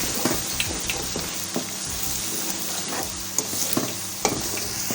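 A rice kadhi mixture fries in a pan with a steady, close sizzle and crackle, broken by scattered scrapes of stirring.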